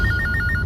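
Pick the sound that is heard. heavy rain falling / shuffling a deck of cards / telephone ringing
telephone ringing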